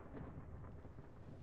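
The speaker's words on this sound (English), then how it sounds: "That's another electrical storm." Deep, rumbling thunder from an electrical storm in a video game rolls low and steady for a moment, fairly faint and with no talk over it.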